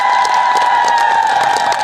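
Steady, dense applause from a crowd at an outdoor farmers' gathering in Khuntgaon, Sundargarh, loud and continuous with a constant tonal hum from the sound system beneath it.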